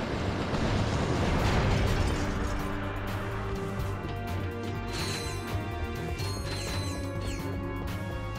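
Nitro launcher blasts in the Ratchet & Clank video game Up Your Arsenal, a loud crashing explosion followed by sustained rumbling, debris and layered game noise throughout.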